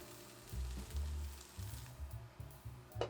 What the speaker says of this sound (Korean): 더 고소한 스프를 만들기 위해 콜리플라워를 노릇하게 볶을게요